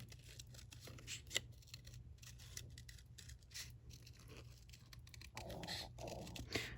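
Scissors snip steadily through cardstock while a paper bird shape is cut out for a greeting card, giving a series of quiet, close, irregular cuts and rustles over a low hum.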